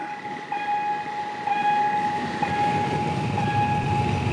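A freight train hauled by a GEA diesel locomotive rolls past steadily and fairly loud, a sustained horn-like tone and engine rumble running throughout, with a slight surge in intensity after the first second and a half.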